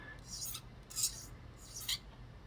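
A stiff hobby blade held sideways scraping mold seams off a plastic model kit part, three faint short rasping strokes in steady rhythm, close but quiet.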